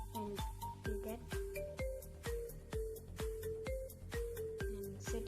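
An iPhone ringtone plays from an Android phone, a quiet repeating marimba-like melody of plucked notes in a steady rhythm, with no talk over it.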